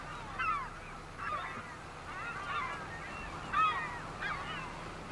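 Geese honk repeatedly in the Farming Simulator 25 game, set on a Western Australia wheat farm, with several loud, overlapping calls in bursts against a steady low engine hum.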